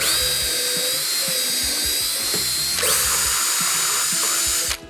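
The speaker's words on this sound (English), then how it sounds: "we'll be putting some small holes in the primary throttle blades" A small drill bores holes in carburetor primary throttle blades, a high close whine that steadies and shifts pitch midway, with light mechanical clicks underneath before stopping abruptly at the end.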